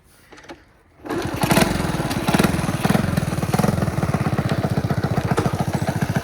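A Honda C90 Cub motorcycle engine fires up after a brief quiet moment, then runs steadily with a loud, rapid, evenly pulsing putter close by.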